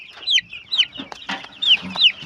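Five-day-old broiler chicks on a poultry farm make repeated shrill peeps and soft clucks close by, in quick irregular bursts.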